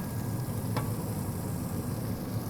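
Smashburger slider patties sear on an open griddle with a steady, close sizzle and a spatula scrape partway through. No one speaks.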